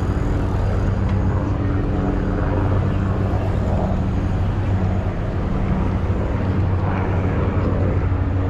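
Helicopters fly overhead, a steady loud rotor and engine roar that fills the whole stretch without pause, with no voices over it.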